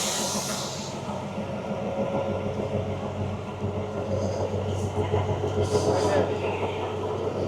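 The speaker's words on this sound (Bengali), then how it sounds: "এই যে টয় ট্রেন, এটাতে করেই কিন্তু আমরা যাব সিমলাতে" A Kalka-Shimla toy train on the narrow-gauge line, heard as a steady low rumble and hiss at a station, with a few brighter high bursts near the end and no clear talk over it.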